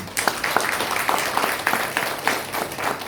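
A church congregation claps hands together in a steady rhythmic beat, bright repeated claps close by, with a little voice underneath.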